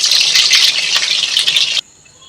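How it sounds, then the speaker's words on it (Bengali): Long-cut potato strips frying in heated oil in a wok, a loud, steady bright sizzle close up with bubbling flickers, cutting off abruptly to near silence at the end. "আমি একটা বড় সাইজের আলু নিয়ে আমি লম্বা লম্বা করে কেটে এটা লাল করে ভেজে নেব।"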